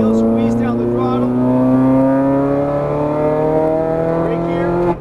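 A Ferrari 430 Scuderia engine pulls hard on a track, a loud steady high-pitched roar with rising harmonic tones that climbs continuously for several seconds before dropping off abruptly at the end.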